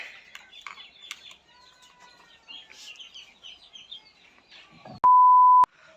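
Caged quails chirp and call in a busy flurry of short, high twittering notes, fairly close, before a loud steady electronic beep cuts in near the end.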